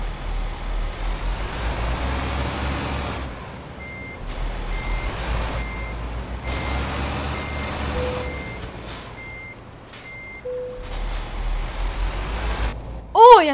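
A Scania R420 truck in Euro Truck Simulator 2 idles with a low engine rumble while reversing beeps repeat steadily, ending in a sharp hiss of the air brake; a voice speaks briefly.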